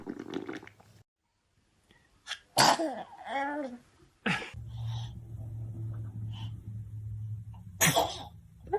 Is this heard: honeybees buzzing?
no